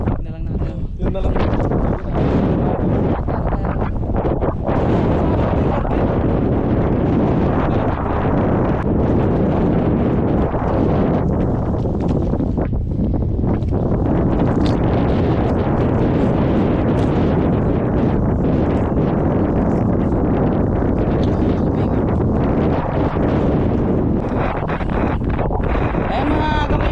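Strong wind roaring across the microphone outdoors near a windmill, loud and constant with gusty surges, and people talking faintly underneath.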